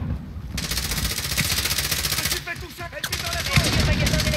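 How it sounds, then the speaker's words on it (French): Rapid automatic rifle fire in Call of Duty Modern Warfare, dense bursts of loud gunshots rattling nearly nonstop, with brief pauses and a player talking faintly underneath. "Tu les entends pas le fusil là?"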